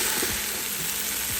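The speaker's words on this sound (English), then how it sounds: "We're gonna add in our carrots and saute those for a minute. Make sure you stir them around." Sliced carrots and onions sizzle in a hot pan, a steady close frying hiss with a few soft stirring scrapes over the brief moment.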